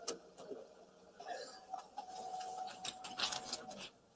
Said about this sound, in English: As soon as you hear the printer.